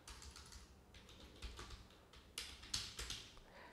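Soft, quiet keyboard typing with irregular clusters of key taps, a few louder strokes near the end, no voices.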